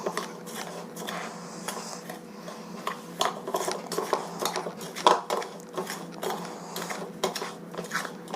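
Flour dough being mixed with a small pinch of salt in a bowl for sweet boli, heard as repeated close scraping, rubbing and clinking of a utensil against the bowl in an irregular rhythm, with no talking.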